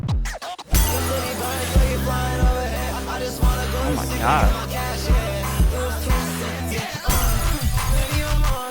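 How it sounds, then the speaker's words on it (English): A sharp glass-shatter effect bursts out near the start of an energetic electronic track, followed by pulsing bass and synth beats; a listener briefly exclaims over it. "I love that, like, glass break sound effect."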